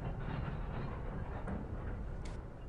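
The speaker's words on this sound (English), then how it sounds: "you basically drive a little toy train to chase the gnomes who stole the present" Toy train running in the Christmas Game of Gnomes scenario of Train Simulator, a steady rolling rail rumble with faint clickety-clack, continuous and fairly loud, with no talking.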